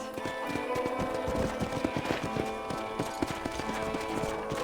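Horse hooves clip-clop in a steady, quick rhythm throughout, close and clear over a sustained tonal backdrop, in the video game Red Dead Redemption.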